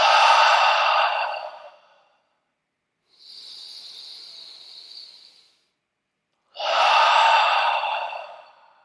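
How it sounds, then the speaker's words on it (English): Three heavy, close breaths during a guided breathing exercise: a forceful exhale, a softer hissing inhale, then another strong exhale, each separated by brief silence. "Now I'm breathing a little faster than may be comfortable for you"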